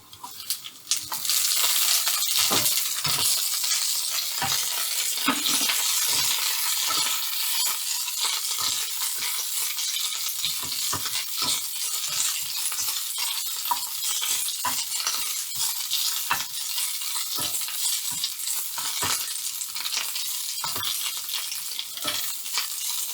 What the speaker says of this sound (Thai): ตอนนี้เราใส่ผักลงไปผัด